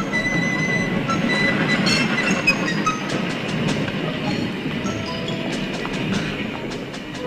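A tram rolls along its rails, with steady rumbling wheel noise, clicking rail joints and faint squeals running loud and close throughout.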